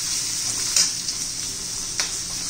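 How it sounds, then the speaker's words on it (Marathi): Onion sautéing in hot oil with ginger-garlic paste for an onion and capsicum dish, giving a steady close sizzle with a few scraping stirs of a spoon. No one speaks. "परतून घेऊया चांगलं."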